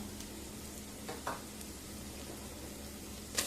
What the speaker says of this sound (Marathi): आणि हे तमालपत्र असं तोडून टाकायचं कढीपत्ता